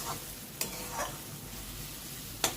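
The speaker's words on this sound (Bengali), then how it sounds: "গরম মশলা গুঁড়োটা দিয়ে ভালো করে একটু নেড়ে চেড়ে দেবো" Garam masala powder being stirred into a spiced masala in a pan for arhar (toor) dal, with a steady soft sizzle and a few sharp scraping strokes of the spoon, alone and close.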